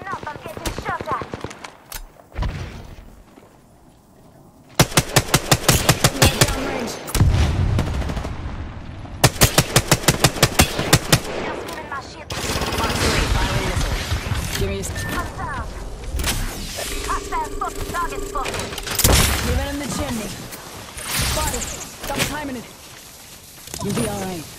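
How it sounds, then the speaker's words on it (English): Apex Legends gunfire crackling in rapid automatic bursts, with dense volleys that stop and start over a busy battle mix while in-game voices call out. "Listen up, I'm getting shot at."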